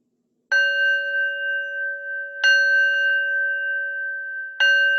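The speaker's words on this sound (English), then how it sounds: "I'll start with ringing the bell." A single meditation bell is struck three times at even intervals, each clear ringing tone sustaining and slowly fading before the next strike.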